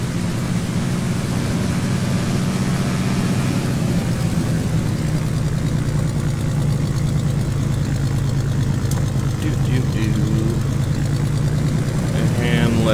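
Steady low engine drone of a simulated aircraft taxiing in X-Plane 10, a continuous hum holding level throughout with a faint higher whine, heard alone without talk.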